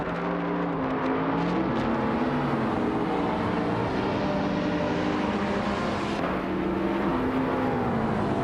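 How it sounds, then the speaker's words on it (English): A 2007 SSC Ultimate Aero Twin Turbo races in a video game, its engine giving a continuous loud droning roar whose pitch rises and falls with gear changes, steady and close, with no talking. "Maya is driving a 2007 SSE Ultimate Aero Twin Turbo.E."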